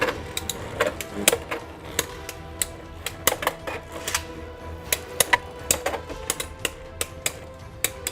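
Wizard Rod 160 Hexa, launched with a winder launcher, and Emperor's Might Beyblade tops clash in a stadium, producing irregular sharp clicks and slamming hits over a steady spinning whir, close and moderately loud.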